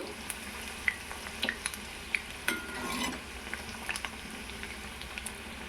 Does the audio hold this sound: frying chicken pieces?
yes